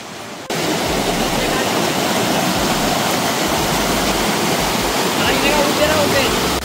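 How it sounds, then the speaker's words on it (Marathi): A waterfall near the Ganpati Gadad caves in Murbad, Thane district, roars steadily as loud broadband rushing water, close and continuous after a brief quieter start. "आणि आता मी तुम्हाला एक वॉटरफॉल दाखवतो."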